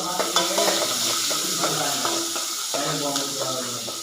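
Onions frying in a pan after a tempering of fennel and fenugreek, a constant hissing sizzle broken by repeated spoon scrapes and clinks, close and moderately loud.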